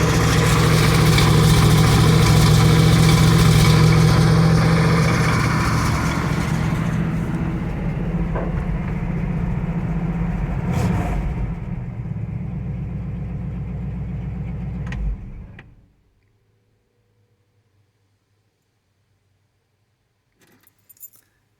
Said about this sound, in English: engine's nice and strong.